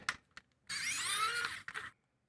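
A screw on a DVR loosened by hand: a few short scraping squeaks, then a longer continuous rasping twist of metal threads, close and clear in a quiet room.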